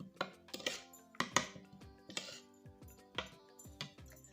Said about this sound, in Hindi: जी तो हमने सारा मसाला अच्छे से मिक्स कर लिया